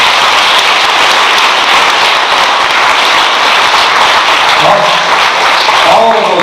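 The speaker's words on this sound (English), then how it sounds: "Just give those guys a round of applause." A crowd at a 2017 high school sports banquet and awards ceremony gives the senior players loud, dense, continuous applause that fills the room, with a few voices rising above it near the end.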